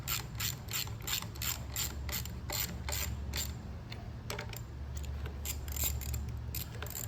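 A ratchet tightens bolts on an AR45 pump outlet manifold, part 43883, in quick runs of sharp metallic clicks with brief pauses between strokes, close and clear.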